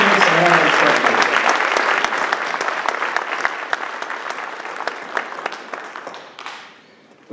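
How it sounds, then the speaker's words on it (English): Audience applause at a band mid-winter concert, steady clapping from a crowd fading out over several seconds, loud and close. "So one more round of applause for our participants and our instructors."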